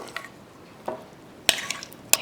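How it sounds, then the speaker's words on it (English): Whole corn being stirred for a corn souffle, a few soft scraping strokes and light clinks of a utensil against the bowl, spaced apart and fairly quiet. "stirring together the whole corn"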